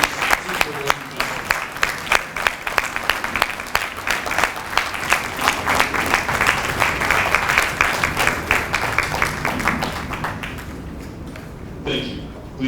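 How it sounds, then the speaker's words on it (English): An audience at a Marine Corps recruit graduation breaks into loud, sustained applause, dense rapid clapping carrying for about ten seconds before tapering off, with a brief voice near the end. "Ladies and gentlemen, a round of applause for their dedicated service to forward vessels."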